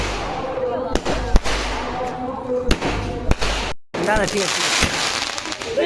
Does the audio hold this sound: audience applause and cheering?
no